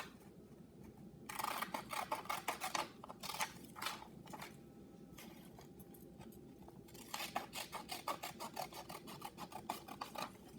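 Scissors snip through paper in two quick runs of rapid, crisp cuts separated by a quieter pause, faint and close against a low background hiss.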